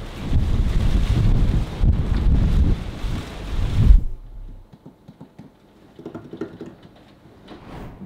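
Strong typhoon wind in Japan buffeting loudly in heavy gusts for about four seconds, then dropping abruptly to a quieter, intermittent rumble with faint rattles.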